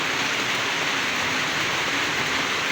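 Heavy rain pouring down outdoors in a sudden downpour that brings flooding, a loud, dense, unbroken roar of water close by.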